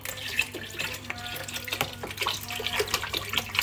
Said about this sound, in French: Et là, vous rajoutez bien de l'eau